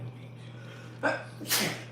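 A single sharp sneeze bursts out near the end of a quiet kitchen moment while chocolate chip cookies are being made, preceded by a short inhaled breath over a steady low hum.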